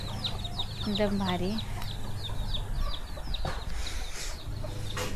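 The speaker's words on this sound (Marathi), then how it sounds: "आणि कोंबडीचे पिल्लू पण भरपूर आहेत बघा." Village hens and many small chicks around a rural house fill the scene with rapid, high peeping and occasional clucks, steady and close. Someone talks briefly over the birds.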